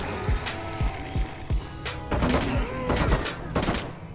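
Rapid gunfire from a three-round burst weapon in a Half-Life: Alyx mod, with several sharp close shots followed by denser clattering bursts and mechanical handling noise.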